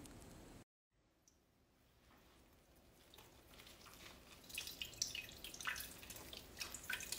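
Grape juice drips from wrung-out grape pulp squeezed through an old strainer, giving scattered small drips and wet squishes that grow louder and more frequent toward the end, close by and with no talk.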